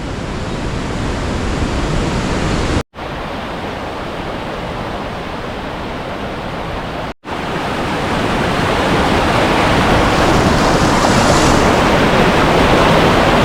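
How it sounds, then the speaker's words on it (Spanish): A waterfall pours from the Cueva del Gato cave on the Guadiaro river, a loud, dense, unbroken roar heard close by, with two very short dropouts. "La cascada que hace la Cueva del Gato"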